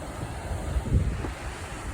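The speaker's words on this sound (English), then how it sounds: "here we are at the falls at Wide Sky Canyon in the Klickitat River. It's rushing right along today." Klickitat River rushing over the falls at Wide Sky Canyon, a steady broad roar of churning water with a low rumble swelling briefly near the middle, no voices.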